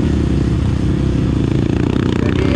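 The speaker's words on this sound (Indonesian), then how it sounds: "Memang kalau dari segi suara mesin, WR agak lebih kasar sedikit." A Yamaha WR155R motorcycle engine idles steadily at close range, with a slightly rough, continuous drone that holds a constant loudness throughout.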